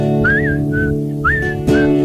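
Someone whistles short, bright rising and level chirps, imitating a canary's song, over soft background music.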